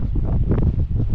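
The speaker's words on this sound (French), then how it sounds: "Bon, il y a un petit peu de vent" Wind gusts against the microphone aboard a catamaran anchored near the shore of Anguilla, a steady low rumbling buffet with no talk, close and continuous.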